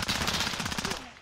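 Rapid automatic gunfire in Call of Duty: Modern Warfare during a Hardpoint match, a dense loud burst of shots lasting about a second.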